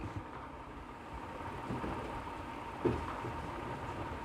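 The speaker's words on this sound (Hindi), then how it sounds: "मंडियों में बारिश की मार गेहूं भीग रही है" Steady rain falls over a grain market in Kaithal, Haryana, soaking wheat. Thunder joins it: a continuous broadband wash of rainfall is broken near the end by a single louder rumbling crack.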